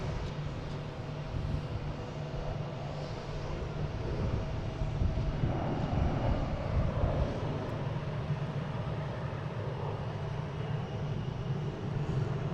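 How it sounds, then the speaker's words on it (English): Delta Airbus A319 airliner arriving from Norfolk at Boston Logan airport, a steady distant jet rumble with broadband roar that swells slightly midway, no one speaking. "Now we got a Delta coming in from Norfolk."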